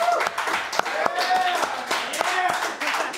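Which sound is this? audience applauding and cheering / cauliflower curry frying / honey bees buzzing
audience applauding and cheering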